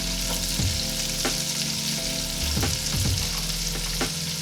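Red and white onions saute in olive oil and butter with a dense, steady sizzle heard up close. Occasional spoon stirs and pan knocks cut through the frying hiss.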